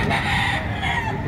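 A rooster crows once, loud and close, at the Padre Garcia chicken market in Batangas, one drawn-out call with nearby clucking and no talk.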